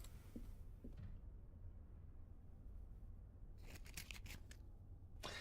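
A box of matches shaken in the video game Black Mirror 2, a brief burst of dry rattling clicks late on after quiet low hum, with a couple of faint taps earlier.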